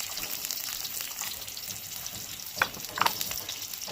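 Potatoes for an aloo-phulkopi dish sizzle steadily in hot oil in a pan, a continuous soft frying hiss with a couple of sharper spatters and clinks near the end, no talking.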